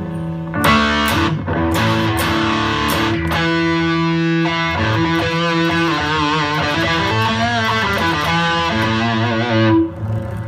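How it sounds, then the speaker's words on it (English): Electric guitar played through an Ammoon PockRock mini amp multi-effects unit on its clean channel with echo delay, several struck chords ringing out then a sustained strummed passage with trailing repeats, loud and close with no talking. "So that's obviously the clean channel there, with a little echo or delay on there."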